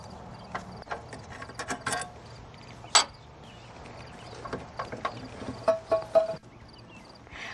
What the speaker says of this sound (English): make sure you are supporting the alternator with the other hand, and just take off this last bolt